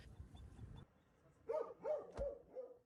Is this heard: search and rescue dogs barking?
yes